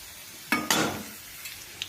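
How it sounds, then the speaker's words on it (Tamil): Rava upma ingredients hiss and sizzle in a hot pan as a spoon stirs, two sharp bursts of frying close up followed by faint scraping and a light clink. "2 நிமிஷம் நல்லா வதக்கியிருக்கோம்."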